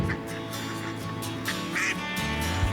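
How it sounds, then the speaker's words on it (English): Ducks quacking by a pier on Nantucket while waiting for the ferry, a few calls rising over a steady background of low hum and ambient waterfront noise. "let's watch the duckies."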